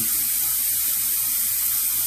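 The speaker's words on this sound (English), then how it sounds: "get some water, get it filled up a little bit" Tap water pouring into a clogged bathroom basin, a steady hissing splash at constant volume throughout, close to the microphone with no talk.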